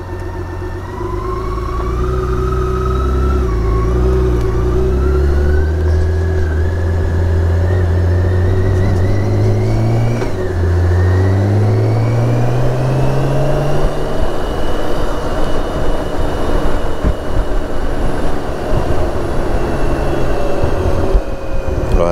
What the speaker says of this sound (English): So the bus is coming down